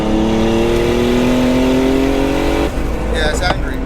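A turbocharged 403 bhp BMW E36 323i, a budget build on cheap coilovers, revs hard with a loud, steady rising engine note up close, then drops off abruptly near the end as the throttle lifts.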